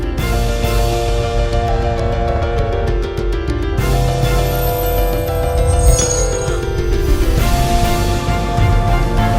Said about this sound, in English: And then it sounds like this giant, tremendous burp.